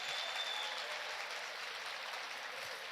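Audience applause at an education seminar panel on childhood practices and policies, a steady dense wash of clapping that holds at even loudness for the whole stretch with no voices over it.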